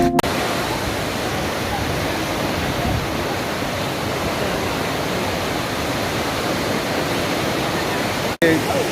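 Manthoka Waterfall in Skardu, Gilgit-Baltistan, Pakistan, pours in a constant dense roar of rushing water, loud and unbroken throughout, with a brief click near the end.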